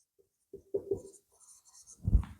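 Marker or chalk writing on a board during a Class 10 science lesson on concave mirror image formation: a few short scratchy strokes, then a louder thump near the end, close and alone without speech.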